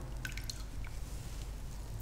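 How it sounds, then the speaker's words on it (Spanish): Hands dip into water while cooking millet, giving a few soft splashes and drips near the start, then a quiet watery background. "ponemos las manos en agua"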